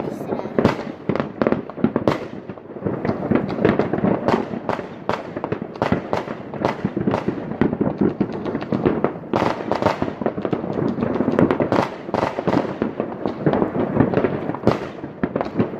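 Fireworks and firecrackers at a 2019 display in Ørsta, Norway, crackling and banging in rapid, dense bursts for the whole stretch, some reports sharp and close, with voices faintly mixed in.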